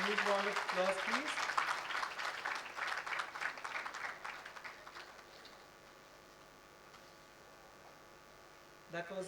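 Graduating students at the NIFT Bangalore 2016 graduation ceremony receive a round of clapping from the hall that gradually thins and fades after about five seconds, leaving a low electrical room hum and a brief rustle near the end.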